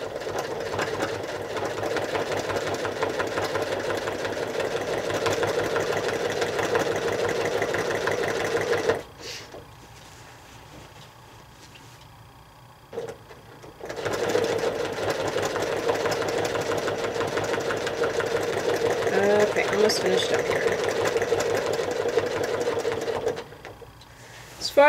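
A sewing machine stitches quilting over painted fabric in a steady, close mechanical whir that runs continuously, stops for a few seconds of near quiet, then starts up again and hums on to the end.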